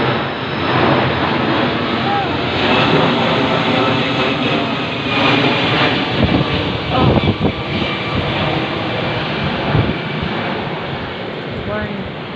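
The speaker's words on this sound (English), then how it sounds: "And the planes are coming over." Airplanes pass overhead late at night, a loud sustained engine roar that swells and lingers across the whole stretch, with a voice speaking underneath.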